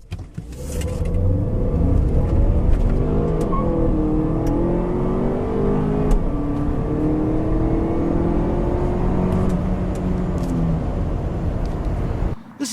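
A 2015 Volvo XC60 accelerating hard, its engine note climbing in a loud, steady whir as it gains speed, heard from inside the cabin with no talking.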